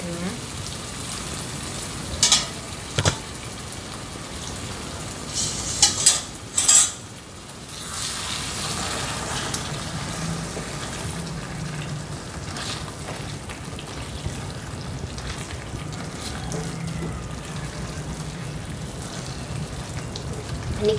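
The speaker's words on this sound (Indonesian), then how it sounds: "Ini kita tumis ya, hingga bumbunya meresap ke dagingnya" Young goat meat sautés with spices in a pan for red gulai, a soft continuous sizzle broken early by several sharp metallic clinks of a utensil against the pan, with occasional quiet talk.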